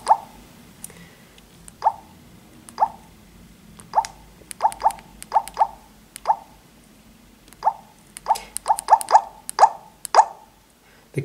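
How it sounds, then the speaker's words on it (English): Short electronic keypad beeps from a Nokia 225 4G phone, pressed one at a time in irregular bursts, loud and close, with quiet pauses between presses. "The keypad volume is bloody really loud"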